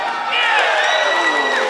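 A bowling crowd at the European Women's Championship final erupts in loud, excited cheering and whoops after a shot, a brief continuous burst of many voices.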